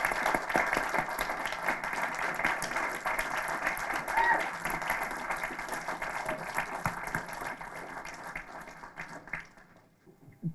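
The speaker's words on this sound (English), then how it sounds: "So can you stand up and let's give him a round of applause" Audience clapping fills a hall at a climate-change play, a steady, dense applause that gradually fades out toward the end, with some voices mixed in.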